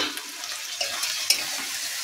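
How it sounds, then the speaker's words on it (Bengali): Tomatoes go into a pan of ginger paste and spices frying over raised heat, producing a steady close sizzle with light stirring scrapes and small clinks, no voices. "তারপরে টমেটোগুলো দিচ্ছি"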